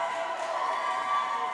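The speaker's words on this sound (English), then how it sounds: "And a cheer." Crowd cheering at a youth swim meet as a swimmer finishes a race, a steady broad roar from the stands for a moment, with voices mixed in.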